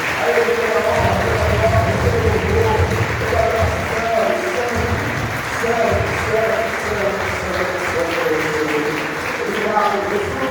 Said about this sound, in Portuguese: e agora aplaudindo o Pai, o Filho e o Espírito Santo